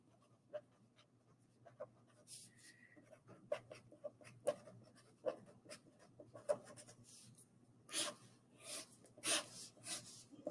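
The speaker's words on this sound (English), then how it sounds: "here you're going to write out your explanation" Pen writing on paper for a mind map, faint intermittent scratching strokes and taps in short bursts, heard close in a quiet room with no talking.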